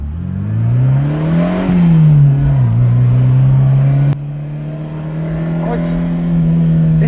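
Fiat X1/9 sports car accelerating along a road at around 40 mph, its engine droning loudly and close, pitch climbing, dipping at a gear change, then holding steady, with a voice talking over it.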